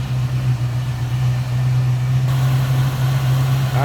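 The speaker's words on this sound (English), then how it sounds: "I'm going to pop that hood so you can check out the engine bay and see how smooth this engine runs" A stock 302 V8 in a 1970 Ford Mustang coupe idles steadily up close with the hood open, a smooth, even low rumble holding constant throughout.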